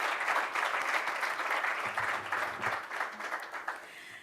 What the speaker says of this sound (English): A round of applause to them as a thank you for their support.